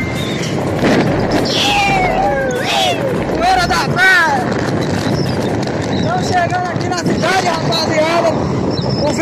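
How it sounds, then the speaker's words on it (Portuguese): Strong wind buffets the microphone in a constant loud roar while someone talks loudly over it, riding a motorcycle on rural roads. "vento tá muito forte, espero que vocês estejam escutando aí"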